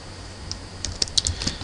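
Typing on a computer keyboard while entering a database query, a few light irregular keystroke clicks close by over a quiet background.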